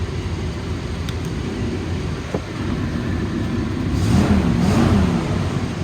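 A 1995 Ford F-350 XL cab and chassis with a 7.5L gas V8 idles with a steady low rumble, then the revs climb briefly near the end, recorded close by.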